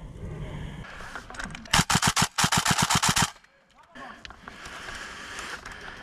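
Airsoft guns firing during an outdoor airsoft game, a close burst of rapid repeated shots followed by a quick series of sharp pops, then a brief lull, with faint voices and outdoor noise around it.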